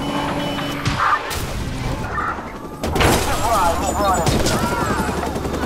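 Gunfire rakes toward the player in a video game jail escape, with scattered shots and a denser burst of fire in the second half, alongside crashes and someone talking over it.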